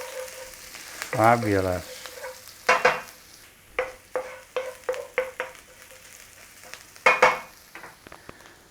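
Garlic and ginger fry in a pan, sizzling steadily while a utensil scrapes and taps the metal in repeated short strokes; a voice briefly speaks.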